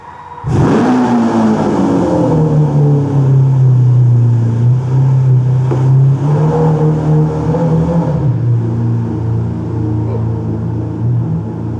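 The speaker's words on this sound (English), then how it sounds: "Just a second, we got a car that needs to start up." A Nissan's engine starting inside a garage: a brief crank catches sharply, then settles into a loud, steady idle that rumbles on alone to the end.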